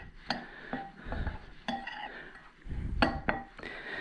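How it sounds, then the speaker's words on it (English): Blue corn couche couche dry ingredients mixed in a bowl, with irregular scraping and clinking of a utensil against the bowl, some soft rustling between the knocks. "I'm just going to mix all these dry ingredients together, get them all incorporated"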